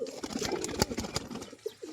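Pet pigeons, including red and black domestic breeds, coo softly in a short burst of throaty rolling calls mixed with faint rustling, close by and with no talk.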